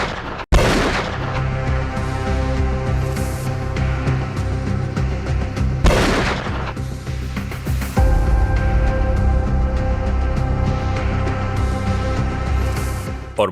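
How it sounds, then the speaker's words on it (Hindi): Gunshots in a street crime reenactment: a sharp loud shot opens, followed by two more heavy booming blasts spaced several seconds apart, each trailing off into a dense rumbling wash. "सरेराह इसी तरह इसे गोलियां दाग दी गईं।"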